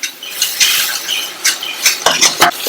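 Masala powder is sautéed in a pan for a banana curry, with dry scraping stirs and light metallic clinks of a spoon in irregular bursts over a soft frying hiss.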